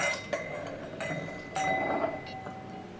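Wine glasses clinking in a Swiss hotel wine tasting, several bright ringing chimes spaced about half a second apart, close and clear over a low background hum.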